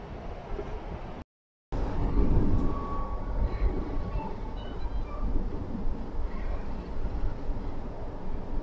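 Continuous rumble and rattling of an MRT metro train running on rails in Manila, loud and close, with brief squeals and a short dropout near the start.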